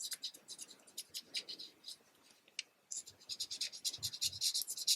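A marker squeaks and scratches across paper, drawing lettuce for a paper taco craft, in quick close strokes with a short pause midway, faint but crisp, no talk.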